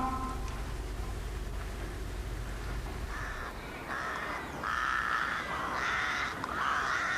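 Crows caw repeatedly at daybreak in harsh, rising bursts that grow louder toward the end, over a dense bed of outdoor ambience with no voices.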